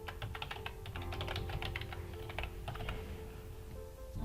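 An email address and password typed on a computer keyboard, with a steady run of quiet, rapid key clicks over a faint background hum.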